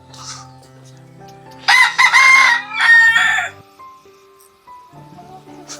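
Chickens and roosters kept at an old family house, with a rooster crowing loudly twice in close succession and softer clucking before and after, all close by.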